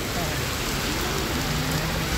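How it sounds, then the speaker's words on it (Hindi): Heavy rain pours down in a dense, loud, unbroken roar of drops close by. "इतना खतरनाक बारिश है।"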